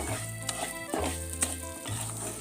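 Coarse wheat semolina (bansi rava) roasting in ghee in a pan, with a low steady sizzle and a few light scraping stirs, close up and without talk.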